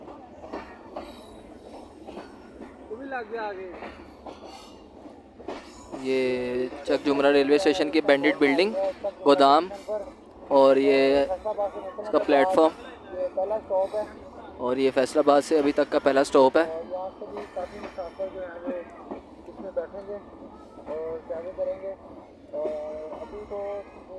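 Pakistani passenger train, the 113 Up Ghouri Express from Faisalabad to Lahore, rumbling steadily with a low hum beneath loud, continuous nearby talk.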